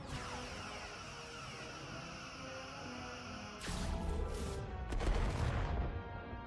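Starship weapons fire in the Star Trek: Resurgence video game, a dense rumbling barrage that swells into heavy blasts and bursts over a steady humming bridge ambience.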